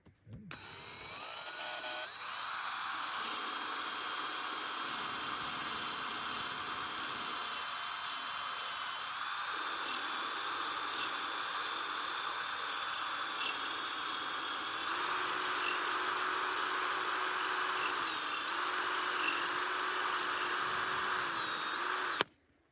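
A power drill bores down through thick ice above a pond liner, a steady high-pitched grinding whine running continuously for over twenty seconds at close range, with no talking.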